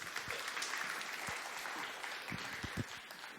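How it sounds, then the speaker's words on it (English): Audience applause at a tech summit in Berlin, as the room claps for a conference speaker: a dense, steady patter of many hands that stays loud throughout and tapers only slightly at the end. "So we'll give a warm applause to Arjun."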